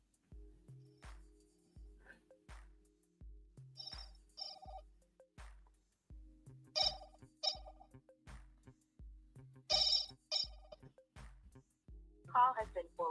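A phone ringing with a repeated, evenly spaced ringback tone before the call goes to voicemail, with faint voices breaking in between the rings.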